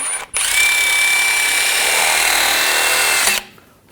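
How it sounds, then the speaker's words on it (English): A steady, loud power-tool whir with a harsh scrubbing texture runs for about three seconds, starting and stopping abruptly, as a wire brush scrubs corrosion off metal on a BMW 535i xDrive front suspension. "I'm just going to use a wire brush just to clean up some of the corrosion."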